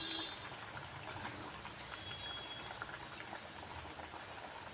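Coriander vadi (kothimbir vadi) deep frying in hot oil, a faint, steady crackle and bubbling patter that runs evenly throughout.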